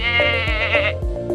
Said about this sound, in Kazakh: Қой маңырайды.